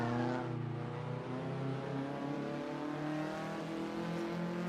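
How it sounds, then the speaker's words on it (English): Small car's engine revving in the Assetto Corsa 2 racing game, a steady buzzing drone with layered harmonics that rises slowly in pitch, moderately quiet and continuous with no talk. "look at the sound of this car"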